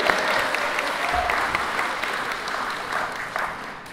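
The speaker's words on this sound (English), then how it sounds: "round of applause" A graduation audience breaks into a round of applause, dense clapping that starts loud and tapers slightly over a few seconds, with faint cheers in the hall.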